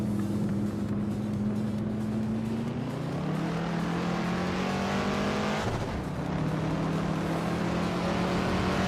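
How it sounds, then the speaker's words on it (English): Engine of a 1962 Jaguar Mark II race car in a racing video game, a steady droning note that dips and climbs as the pitch shifts with a gear change, with another car briefly sweeping past mid-race. "Drew Falls is racing a 1962 Jaguar Mark II"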